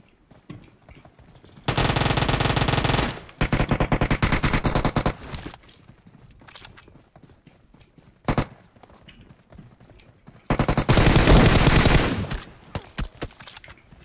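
Automatic gunfire in the PUBG Mobile video game on the Livik map, two long loud bursts of rapid shots and a single sharp shot between, with quieter clicks and footsteps around them.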